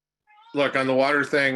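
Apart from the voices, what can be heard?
cat meowing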